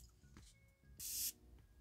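A Mancera Aoud Blue Notes perfume bottle's atomizer gives one short, sharp hiss of spray among quiet handling clicks and rustles.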